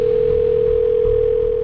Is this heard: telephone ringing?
yes